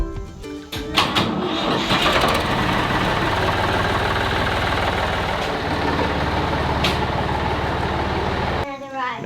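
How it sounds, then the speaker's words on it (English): A tractor engine starts and settles into a steady, loud idle close by in a garden setting, with a continuous rumble under brief talk from people nearby. "You need to move the tractor?"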